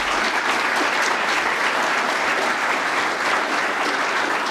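A room full of people at the National Press Club of Australia applauds a government minister after an address, steady, dense clapping that holds loud and even throughout.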